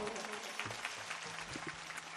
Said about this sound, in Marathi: एकदा जोरदार टाळ्या होऊन जाऊ द्या